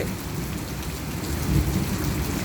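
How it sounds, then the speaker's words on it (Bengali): Heavy outdoor rain pours down in a steady, dense hiss with a low rumble underneath, swelling slightly louder midway through, with no voices. "আমাদের দেশের মতন বৃষ্টি শুরু হয়েছে।"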